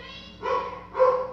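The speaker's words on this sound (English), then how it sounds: "That's just my dog barking." A pet dog barks twice indoors, two distinct mid-pitched woofs half a second apart, moderately loud against quiet background hum, with no talk.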